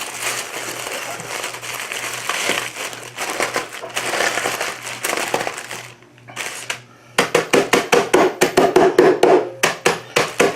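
Ginger snap cookies crushed inside a bag, with dense crackling crunches that turn into a fast run of loud, separate pounding crunches near the end.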